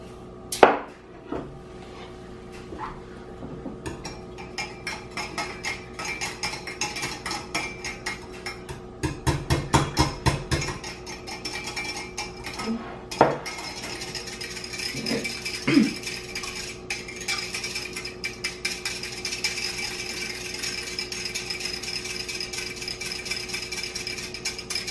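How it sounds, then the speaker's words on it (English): Wet ingredients for orange cranberry muffins, with chopped orange slices, are mixed in a kitchen bowl: a steady run of light clinks, taps and rattles from a utensil and dishes, with a denser cluster of knocks partway through and no talk. "And then I'm going to mix those wet ingredients."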